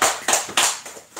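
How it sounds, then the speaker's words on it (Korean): Scattered hand claps from a church congregation welcoming returning members at a Sunday Easter-season service, arriving as a few distinct bursts about a quarter second apart, close and fairly loud. "환영하고 축복하는 박수 한번 하실까요?"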